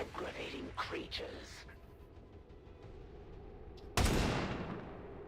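A single sharp gunshot bursts out late in a round of XCOM 2 and trails off in a rumbling decay, following quieter game sounds and murmured voice effects.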